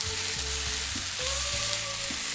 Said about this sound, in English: We're also going to be using 1 teaspoon of ginger and garlic. And we're going to mix well.